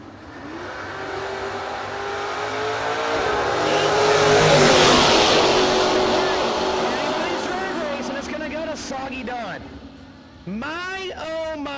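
A 1968 Chevrolet Camaro at a no-box drag racing event, with engine roar swelling to a loud peak and then easing off, and a commentator's voice coming in near the end.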